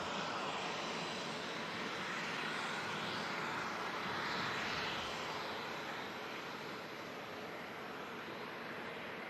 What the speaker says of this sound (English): Next aircraft to arrive, Eurowings A319 about to touch down.